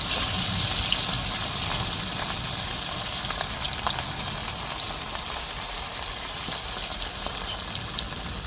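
Pieces of chicken fry in hot oil, a continuous close bubbling sizzle at moderate level with faint crackles throughout, no voices.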